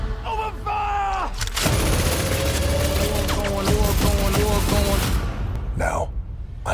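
A volley of gunfire in the Black Adam movie: dense, loud bursts of automatic shots rattle under a shouted voice and booming score, with sharp reports crowding together before a final heavy impact.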